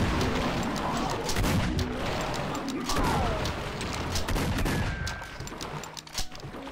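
Shotgun blasts and heavy gunfire in the horror shooter Unloved, a dense, loud barrage of booming shots with rumbling impacts, and a voice talking over parts of it.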